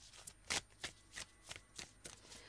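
Oracle cards being shuffled, a quiet, close series of about eight soft riffling swishes at a steady rhythm.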